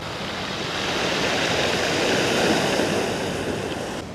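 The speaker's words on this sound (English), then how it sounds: "It's funny to hear the sound that these rocks make. I guess it's the rocks when the waves come in." Ocean waves wash over beach rocks on a snorkeling shore near Sitka, a continuous broad surf roar that swells gently toward the middle and eases off, close and steady with no voices.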